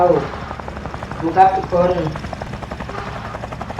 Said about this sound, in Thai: เครื่องบินของเรา